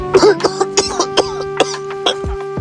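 A man who has had a cough for several days coughs in a quick run of short, sharp bursts. The coughs sound close and loud over a steady humming tone in the background.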